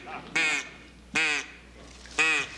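Three loud, nasal duck quacks blown on a duck call come in close succession, each a short buzzy burst separated by brief quiet gaps.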